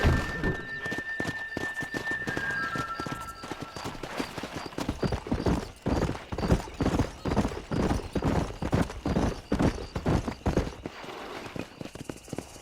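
Horses gallop under riders in the Red Dead Redemption video game, with a steady, fast clip-clop of hooves, close and loud, and a whinny near the start.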